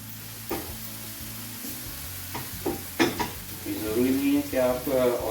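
Minced tuna and mackerel fish keema fries in olive oil with a soft sizzle, a few spoon scrapes and pan clatters, while someone talks over the cooking.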